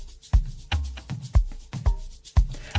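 A 3-step Afro House drum loop from a sample pack plays alone, with punchy kicks and snappy hits in a syncopated, evenly repeating groove, loud and close.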